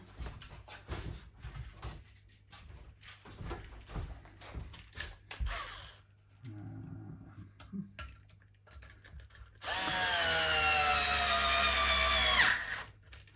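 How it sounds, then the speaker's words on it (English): A screwdriver drives screws into a cheap DIY guitar kit: scattered handling clicks and taps come first, then a loud, whirring motor burst runs for about three seconds near the end. "now I need a screwdriver"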